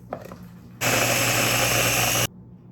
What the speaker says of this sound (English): We're gonna blend the beans to make sort of a cream